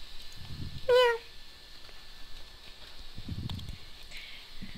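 A Meowth in the Minecraft Pixelmon video game gives a single clear, rising meow near the start, followed by faint soft clopping steps in a quiet game scene.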